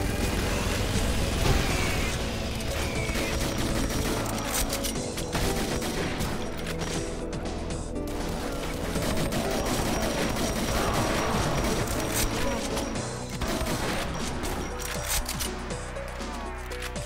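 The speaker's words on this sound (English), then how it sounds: "I shot my gun." Rapid bursts of gunfire from the video game Doom, played with the Eviternity mod, crackle loud and dense and nearly continuous, with overlapping shots and in-game sound effects throughout.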